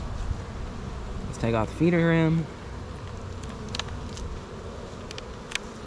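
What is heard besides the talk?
honey bees buzzing at an open hive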